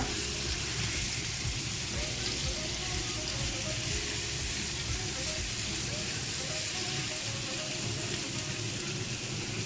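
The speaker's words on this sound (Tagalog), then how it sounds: "I-fry lang natin siya ng konti. Yung medyo, ano na siya, medyo crispy." Chicken for tandoori chicken frying in a pan gives a steady, close hiss of sizzling oil that holds evenly throughout, with faint kitchen noise beneath and no clear talking.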